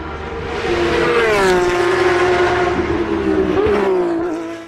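Porsche race cars lap Silverstone at the British Grand Prix, their loud, rising and falling engine howl swelling as cars pass close by, with a brief gear shift dip before fading slightly at the end.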